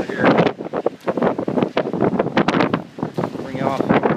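Strong gusts during Hurricane Sandy in New Jersey buffet the microphone in loud, ragged roaring bursts, while a person talks over the wind.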